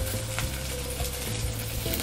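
Crushed garlic fries in hot oil, preparing a horse gram idli podi, with a steady, close sizzle and a few faint stirring clinks throughout.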